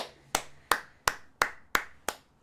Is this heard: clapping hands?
yes